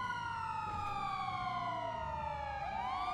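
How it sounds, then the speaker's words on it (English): Police car sirens in the video game GTA 5 wail continuously and loudly, several overlapping tones sweeping slowly with a low engine hum underneath. "Can y'all turn them loud ass sirens off?"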